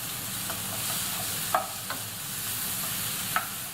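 Capsicum stirred and fried in a pan for a healthy salsa dinner, giving a steady soft sizzle with a few light scraping clicks of the utensil, close by and with no talking.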